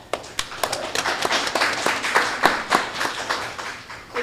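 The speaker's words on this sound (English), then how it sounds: "And so I want to give you a round of applause." A small conference audience at a Black alumni network event claps, with distinct, irregular sharp hand claps spaced across the span, fairly sparse rather than a dense roar.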